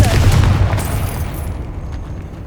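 Confringo fire spell exploding in Hogwarts Legacy: a loud, deep boom with a burst at the start, then a rumble that fades and tails off.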